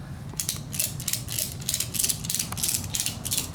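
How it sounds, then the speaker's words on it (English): A ratchet strap clicks repeatedly as it is cranked tight on a motorcycle during a cable replacement, a steady run of sharp, close ratcheting bursts over low background rumble. "then we'll start ratcheting"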